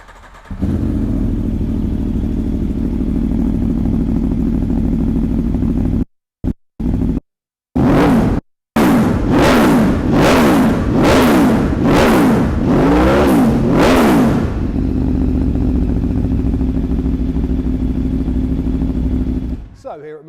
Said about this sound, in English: The Akrapovic silencer on this bike sounds absolutely fantastic.